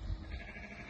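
A Dorper ram gives a brief, low bleat at close range, a single short call fading into steady background noise.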